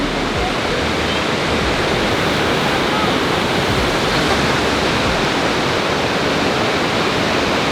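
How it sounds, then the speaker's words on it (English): Waterfall in Nikko, Japan, giving a loud, constant rushing roar heard close up, broad and unbroken like surf, with some wind buffeting the microphone. "What do you think of the waterfall?"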